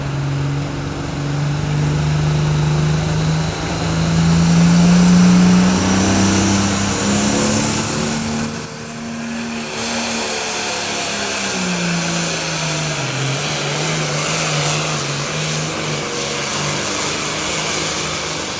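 A high-performance pulling tractor roars loud and steady down a 303-foot tractor pull track, its engine drone swelling early and then sagging near the end as it loses some horsepower.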